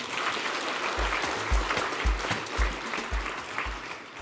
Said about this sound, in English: I want you to clap for them again.